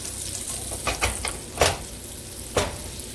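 Beef short ribs browning in hot oil in a pan give a steady close sizzle, with a few louder bursts and scrapes as the pieces are turned.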